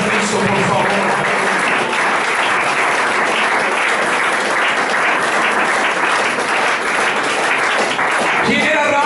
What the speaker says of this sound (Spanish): Ese aplauso fuerte a Jesucristo, por favor.